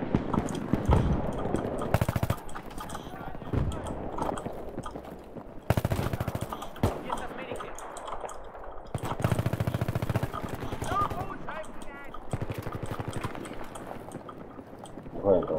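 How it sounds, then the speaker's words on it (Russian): Battlefield 3 video game gunfire: repeated loud bursts of shots crackle in uneven volleys over a muffled, busy background, while people talk quietly in Russian between the shots. "Где-то стрелял, да?"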